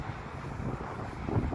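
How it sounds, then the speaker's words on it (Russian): Wind gusting on a street in a new district of Riga, a steady low buffeting roar over the microphone with a stronger gust toward the end. "Здесь такой ветер, честно говоря."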